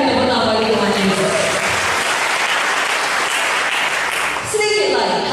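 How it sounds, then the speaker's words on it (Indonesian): A church congregation claps together during a sermon, a dense burst of applause that swells and holds for several seconds while a preacher's voice carries over it at the start and end. "Berikan tepuk tangan bagi Tuhan Yesus."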